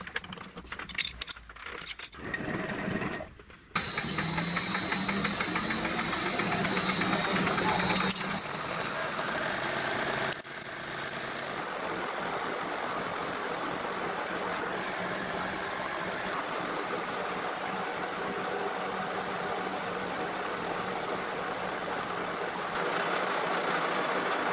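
A lathe facing and cutting a tractor part, a steady mechanical whir and grinding drone with rattling clicks and a few abrupt shifts in tone, close and continuous, with faint talk.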